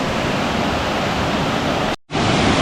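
A waterfall in Baemsagol valley on Jirisan mountain roars as a loud, steady wash of rushing water that fills the whole clip, broken only by a short dropout near the end.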